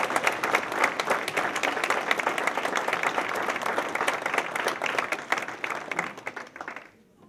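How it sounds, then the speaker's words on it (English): A hall of fame audience at St. Elizabeth's gives a round of applause, a lively burst of many hands clapping in a hall that holds strong and then tapers off quickly near the end. "Let's give a round of applause."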